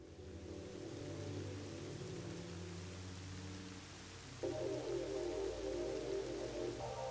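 Steady rain falls in the video game Zelda: Twilight Princess, a constant soft hiss layered with low game tones and music, moderately faint throughout.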